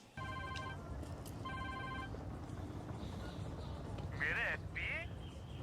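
A telephone rings in a scene from the Hindi film Dhurandhar, sounding as two short bursts of electronic trilling, with film dialogue and background sound underneath and louder warbling tones near the end.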